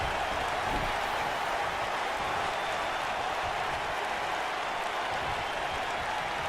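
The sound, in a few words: crowd cheering in WWE 2K19 video game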